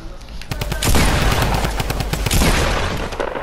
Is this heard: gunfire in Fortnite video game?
yes